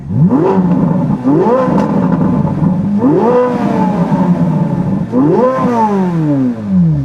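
A Chevrolet Corvette C8 Z06 engine revs three times in loud, close bursts, each rising sharply in pitch and falling back toward a steady idle between blips, with no talk over it.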